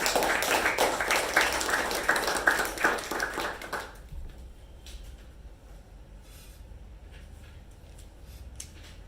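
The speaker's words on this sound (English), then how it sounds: "A huge round of applause to them." A Toastmasters meeting audience gives a round of applause, dense clapping for about four seconds that then stops abruptly, leaving quiet room tone.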